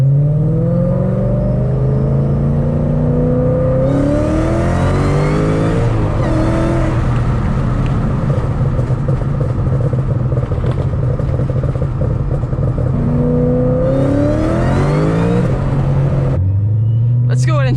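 A Shelby GT500 on street tyres without drag radials accelerates hard at full throttle, close and loud. Its engine note climbs through repeated pulls, with gear changes between them.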